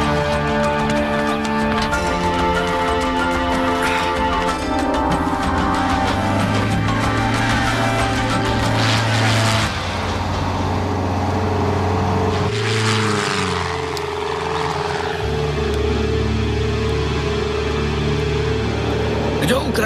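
A propeller airplane leaking oil drones steadily and loudly throughout, its engine pitch shifting partway through, with no voices heard.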